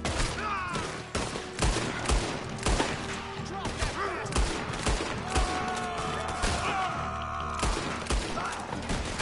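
Dense, continuous gunfire in Red Dead Redemption 2, with rapid overlapping shots and bursts running loud throughout, under scattered game sound and faint voices.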